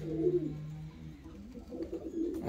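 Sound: pigeons cooing, fancy and costume pigeons

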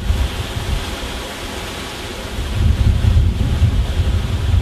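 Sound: strong wind gust blowing on camera microphone

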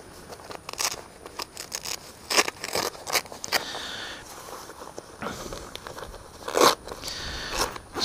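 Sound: zips on a motorcycle patrol jacket being undone

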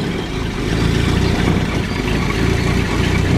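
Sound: Ford Anglia 933cc engine idling

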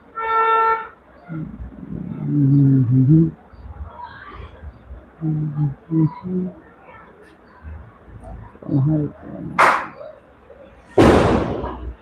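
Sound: firecrackers exploding

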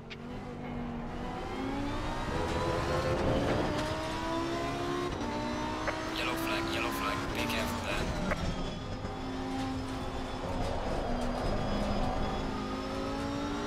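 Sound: racing cars in a video game, Honda and VW

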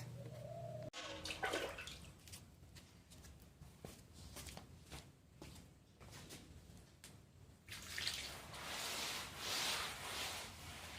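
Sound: washing dishes with running water

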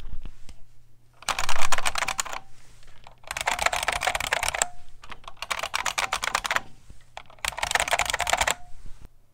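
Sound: typing on a Unicomp New Model M keyboard

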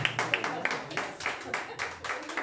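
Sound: audience applause at birthday party

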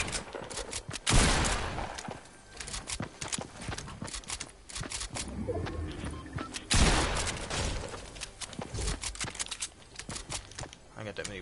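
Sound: pump shotgun shots in a video game

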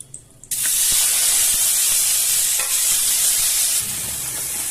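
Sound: snails frying in hot oil

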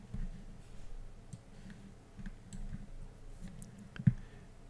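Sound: computer mouse clicking

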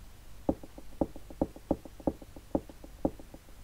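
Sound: knocking sound in the video game Clock Tower

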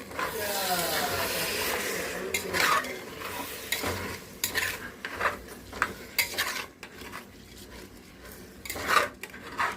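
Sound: stirring rice and prawns in pan

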